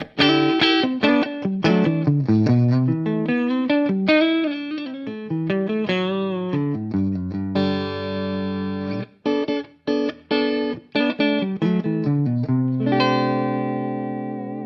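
Bright clean electric guitar with coil-tapped pickup on a Washburn Parallaxe strums and picks chords in a steady rhythm, with short pauses between phrases and ringing sustained notes.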